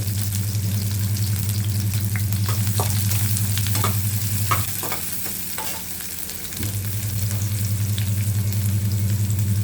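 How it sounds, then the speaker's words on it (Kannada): Onion and ginger fry in hot oil for an egg sambar, producing a loud, continuous sizzle with a string of stirring scrapes and clinks near the middle. The sizzle briefly softens, then returns. No voices are heard. "ಅಲ್ಲಿ ಎಣ್ಣೆ ಇಟ್ಟಿದ್ದೀನಿ ಈರುಳ್ಳಿ ಹಾಕ್ತೀನಿ ಅದಕ್ಕೆ ಇದು ಶುಂಠಿ"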